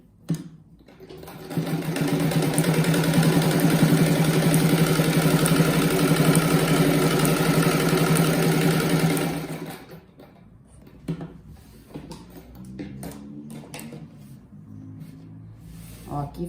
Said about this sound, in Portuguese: Faço duas costuras, deve ficar bem forte.